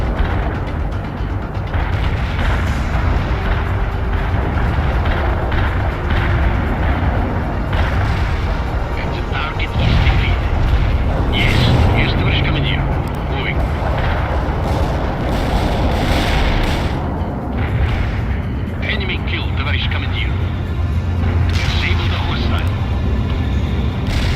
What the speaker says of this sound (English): The heavy artillery strike is right on top of our own people.